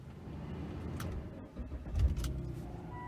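A silver 2007 Volvo XC90 AWD engine cranks and catches, a short low rumble swelling to a steady idle heard from inside the cabin, with no talking.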